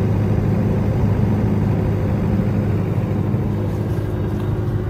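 A Cummins 70 kVA diesel generator set mounted on an old truck runs steadily, a constant low engine drone heard from outside near the intake vent, muffled and even.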